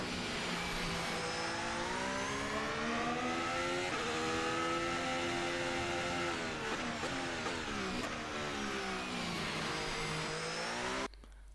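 Simulated Formula 1 car from a 2026 F1 game at Suzuka, its engine note loud and continuous as it accelerates, pitch climbing through rising harmonics with brief dips at gear changes before cutting off abruptly at the end.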